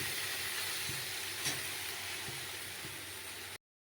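Taro stolons (kochur loti) fry in a pan with a steady, close hiss of hot oil and faint stirring clicks underneath, running unbroken before cutting off abruptly near the end.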